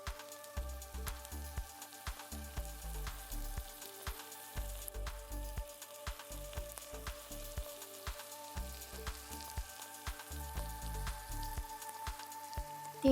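Hot oil crackles and spits steadily in a kadhai on a gas stove, a dense run of small pops and sizzles, close and moderately loud with no voices.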